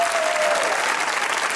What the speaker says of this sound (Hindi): तो नहीं रुकनी चाहिए तालियों की आवाज